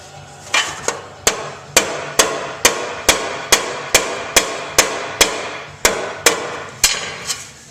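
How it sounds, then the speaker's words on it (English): Sharp metallic body-hammer taps on the center rib of a chopper gas tank, about fifteen evenly spaced blows in a steady rhythm, close and fairly loud with short ringing decays. "we'll just do a little bit of tapping right there"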